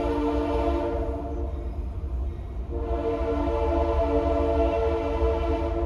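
A train rumbles past nearby with a loud, sustained horn blast layered over the steady rolling rail noise, continuous and unbroken throughout.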